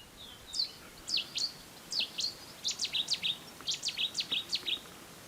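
Wild birds sing in the Qaradagh area, with short, bright, repeated chirps coming in quick clusters, fairly close and clear over a faint, quiet outdoor background.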